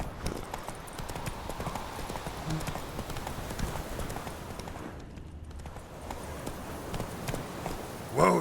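Roach, Geralt's horse in The Witcher 3, galloping: a steady, rapid drumming of hooves on the ground under game ambience, with a brief quieter patch and a louder snort or whinny at the end.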